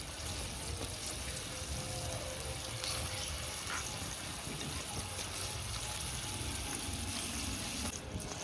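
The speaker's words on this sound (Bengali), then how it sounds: "এবার জল দিয়ে দেবো" Water pours steadily into a pan of well-fried spice paste with home-grown tomatoes for a rupchanda pomfret fish curry, a continuous close splashing hiss with no talk.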